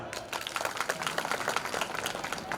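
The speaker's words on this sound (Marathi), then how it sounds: "म्हणून टाळ्या बांधवा" Audience applause during a Marathi devotional sermon at a Datta festival, a soft, steady patter of many hands clapping together for a couple of seconds, heard at some distance.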